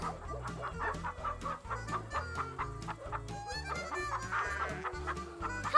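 A rooster clucks repeatedly in short, rhythmic bursts, close and clear, over a steady backing beat in a family movie scene, with no voices during the calls.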